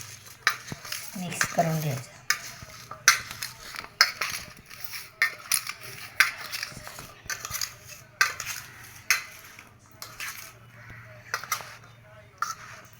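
A spoon stirs salt into a homemade raw amla pickle mixture, giving a series of clinking, scraping taps against the dish with pauses between them, while a person speaks nearby.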